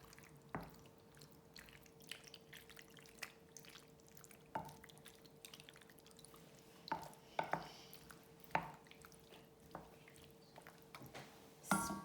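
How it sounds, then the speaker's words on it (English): Macaroni and cheese sauce is stirred in a pot, giving quiet wet squelches and soft clicks of a utensil against the pot at an irregular pace, with a faint steady hum underneath. "And then give it a really nice stir."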